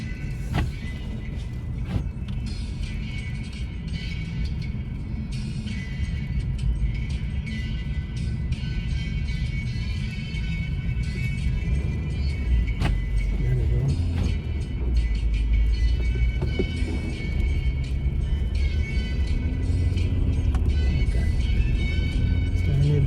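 A car engine labours to climb a hill through a snowstorm, a steady low rumble that swells slightly as it pushes on, with faint mechanical rattles over the continuous drone.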